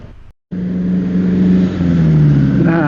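A car accelerates along a newly built road, its engine drone rising in pitch as it gains speed after a brief silent cut, steady and close with a gear change before the revving climbs again.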